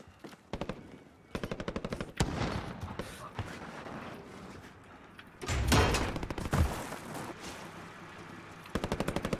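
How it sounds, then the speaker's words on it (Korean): Video game gunfire in Call of Duty Warzone: several loud bursts of rapid automatic fire, with heavier booming shots near the middle and a final burst at the end, over a steady game background. "쏜다 쏜다"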